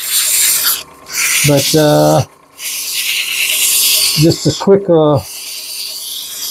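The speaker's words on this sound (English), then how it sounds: "And just quick sanding on this." Sandpaper rasps against a wooden peppermill spinning on a lathe in loud, close bursts of scratchy friction, with someone speaking briefly in the short gaps between passes.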